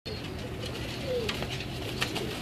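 Tyson breed pigeons on a rooftop coo softly against a steady outdoor background, with a faint rising call and a few light bird sounds over the short stretch.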